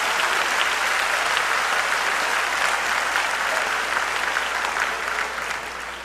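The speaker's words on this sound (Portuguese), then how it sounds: "Give the Lord a big hand clap." Church congregation claps in a big, continuous round of applause, loud and dense throughout, easing slightly toward the end.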